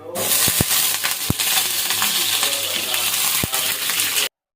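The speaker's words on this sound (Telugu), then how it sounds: "వంకాయలను అయితే ఆయిల్లో ఫ్రై చేసేసుకోవాలి" Cut stuffed eggplants frying in hot oil left from frying onions, giving a steady close hiss with a few sharp clicks of a utensil against the pan before it cuts off.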